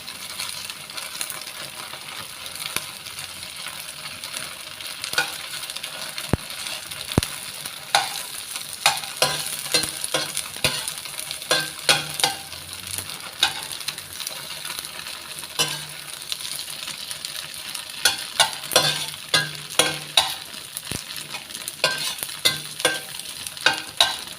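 Garlic sizzles steadily in a hot pan while a utensil stirs and scrapes, producing frequent clinks and scraping bursts over constant frying hiss.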